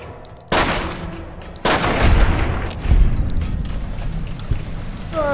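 Gunshots in Fallout New Vegas: two loud, sharp reports about a second apart, each with a long rumbling tail, followed by lower thumps and a faint tonal blip near the end.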